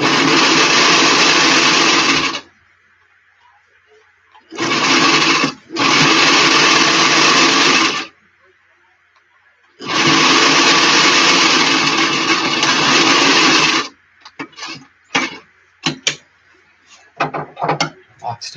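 A sewing machine stitches a flat cap seam in loud bursts of steady whirring that stop and start, followed by shorter stuttering runs and clicks as the fabric is locked off and adjusted.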